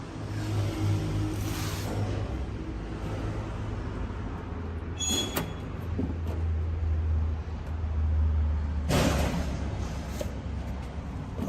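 A model 4102 concrete pump runs on its 3.9 liter diesel engine, giving a continuous low, rumbling drone with a few sharp clanks and bursts over the top and no talking.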